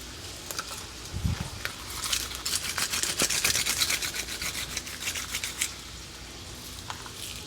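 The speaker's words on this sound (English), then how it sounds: "I like to use my garlic peeler. There we go. Just rub it between your 2 hands." Garlic cloves rolled in a rubber garlic peeler between two palms, a steady dense rubbing and rasping close up that swells over several seconds, then fades.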